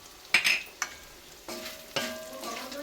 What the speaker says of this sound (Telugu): కాకరకాయ మంచిగా వేగుతుందండి. ఇదంతా ఫ్రై అయిపోయిందండి.